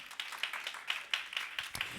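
A church congregation claps for the Lord during a Spanish-language sermon, a steady rhythmic beat of hands at roughly four claps per second, moderately distant and fairly faint with a roomy echo.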